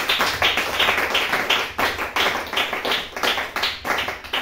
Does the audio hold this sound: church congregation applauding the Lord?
yes